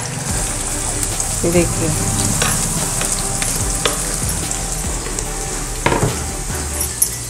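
Two finely chopped onions hit hot oil with already-roasted peanuts, giving a loud, steady sizzle with bursts of stirring and clatter throughout; someone speaks briefly over it.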